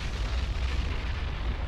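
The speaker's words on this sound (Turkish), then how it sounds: "15 Haziran'da dev bir patlama 5 kilometre küp volkanik parçayı 35 kilometre yukarı püskürttü." A massive rumbling roar from the 1991 Pinatubo volcanic eruption, a dense, continuous low-heavy boom with a broadband hiss, loud and unbroken throughout.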